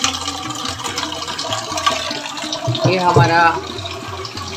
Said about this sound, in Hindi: आरओ का पानी है जिससे चावल बनता है